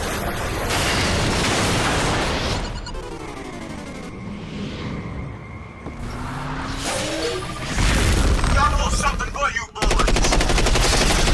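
Rapid machine-gun bursts, whooshing missile pod launches and crashing explosions from giant robot combat in the video game Front Mission Evolved, loud and layered, with brief quieter gaps between barrages.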